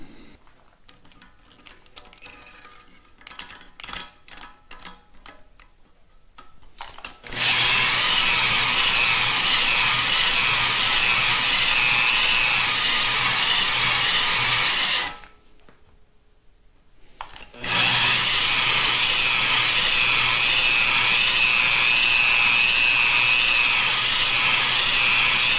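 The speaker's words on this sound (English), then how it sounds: "These 70 grit stones just shred cast iron." Dry honing of a cast iron cylinder bore on a Caterpillar D2 engine block with 70 grit stones, a loud, harsh, steady abrasive grinding that starts abruptly, stops briefly for a couple of seconds, then resumes at full strength.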